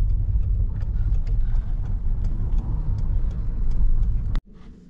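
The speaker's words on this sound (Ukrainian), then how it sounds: "Машина." A car passes near a village road as a loud, steady engine-and-tyre rumble that fades, then cuts off abruptly near the end, with faint voices in the background.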